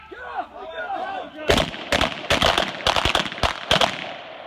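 Revolver gunshots at an outdoor shooting range, about eight sharp, loud reports in an uneven sequence following a range officer's spoken command.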